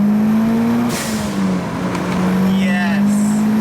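A Mitsubishi Lancer Evolution IX fitted with a Turbosmart blow-off valve drones loudly close by, with a sharp whooshing valve release mid-clip and fluttering chatter afterward as the engine settles again.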